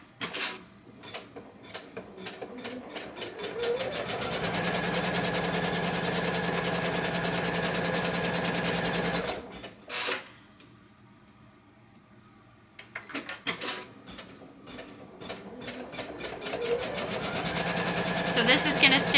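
An embroidery machine stitches out a quilt design with a steady, rapid mechanical whir and a faint tonal hum. It halts partway through, stays quiet for a few seconds, then starts up again with clicking and resumes stitching.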